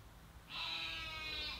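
A single sheep bleats from outside an office window near trees, a faint, distant, wavering cry lasting about a second.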